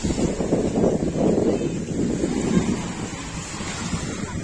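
Steady, warm, humid sea wind buffets the microphone in a continuous low roar with gusty swells, and a soft surf-like wash sits underneath. No voices.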